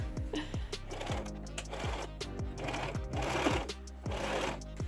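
A sewing machine runs steadily through a tiered skirt, its close, loud motor whir broken by short pauses and restarts, with a rhythmic mechanical patter throughout.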